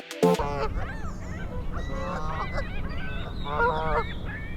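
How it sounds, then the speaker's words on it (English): Canada geese honk repeatedly in a loose, overlapping chorus near a body of water in the morning, loud and close, with one sharp burst near the start and steady outdoor background noise underneath. "You can see the Canada Geese are out in fine form this morning, and they're heading out onto the water."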